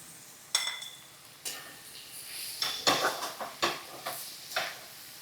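Chowmein noodles and egg being stir-fried in a pan, with a run of sharp metallic clinks and scrapes of a spatula against the pan, some clustered and some spaced, over a faint background sizzle.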